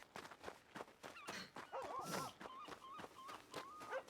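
A dog in the WildRP video game set in Blackwater, with short yips and whimpering calls over soft rhythmic pattering footsteps, moderately quiet and close.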